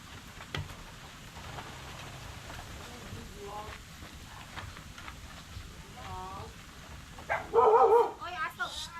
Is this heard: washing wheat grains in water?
no